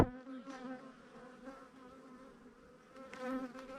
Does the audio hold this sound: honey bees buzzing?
yes